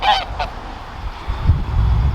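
Geese on a farm honk twice near the start, loud and close, followed by quieter low rustling and shuffling with no voices.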